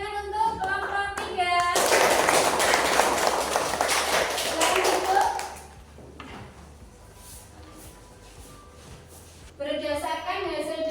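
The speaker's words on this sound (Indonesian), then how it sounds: "silakan tepuk tangan untuk kelompok" A classroom of students applauds a presenting group, with dense clapping that lasts about four seconds and then fades. A teacher speaks before and after the applause.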